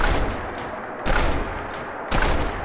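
A heavy select-fire shotgun in a modded Fallout 4 game fires three loud, booming blasts about a second apart, each with a short rumbling tail, close up and with no talk.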